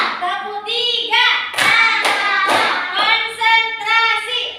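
Children in a classroom ice-breaker clap their hands in rhythm while chanting together, the sharp claps loud and close, mixed in with their voices.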